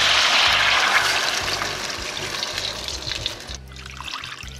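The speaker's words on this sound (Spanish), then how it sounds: "Doramos ligeramente y agregamos agua hasta cubrir." Water added to a pan of lightly browned meat for chilorio, a steady splashing pour that is loudest at the start, eases off, then stops abruptly near the end before a softer trickle.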